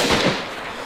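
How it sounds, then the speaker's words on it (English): A single gunshot in a video game cracks out sharply at the start, followed by a brief fading echo, with no voices over it. "So I hear the shot now, I know where he is."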